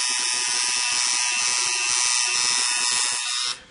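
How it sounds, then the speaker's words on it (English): A tattoo machine fitted with a 4-needle shader buzzes steadily and close while shading black ink into skin, then cuts off abruptly just before the end. "With a 4-needle shader, again, it will allow you to get into the tight areas and still get that airbrush effect on the tattoo"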